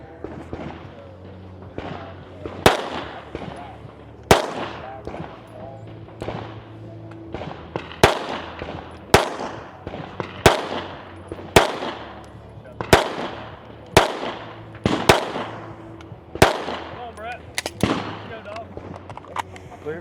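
Pistol shots on a shooting competition stage ring out as sharp, loud reports at irregular intervals of about a second or two, around a dozen in all, with a voice talking faintly in the background.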